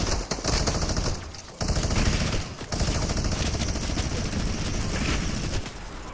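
Rapid automatic gunfire rattles almost continuously through a Fortnite match, dense bursts of shots filling the scene with brief gaps between volleys, loud and close with no talk over it.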